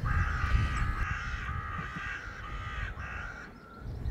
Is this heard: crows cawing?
yes